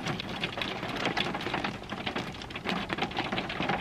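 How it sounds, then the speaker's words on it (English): Hailstones drumming steadily on a tin roof, a dense, continuous patter of hard impacts close overhead with no voices. "it's actually hailing, like hailstones. It sounds like we're in like a tin shed."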